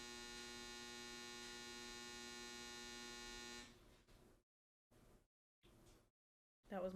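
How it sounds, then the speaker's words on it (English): Steady electric hum from a running home clothes dryer, loud and continuous for several seconds, then cutting off into short broken bursts and silence. "That was my dryer."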